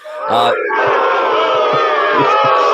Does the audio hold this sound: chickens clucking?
no